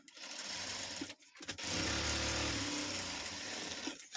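Sewing machine runs in a steady continuous whir while stitching a rice sack bag at a tailoring table, with a brief pause after about a second before the motor resumes at close range.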